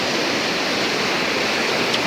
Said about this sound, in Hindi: ये सेम काली नदी जो पहले भी दिखाई थी